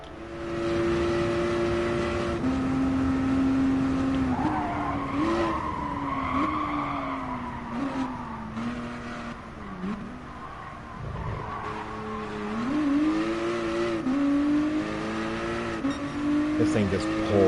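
A race car in Gran Turismo Sport accelerating out of corners, its engine note rising and falling through repeated revs, with tire squeal and someone talking over it throughout.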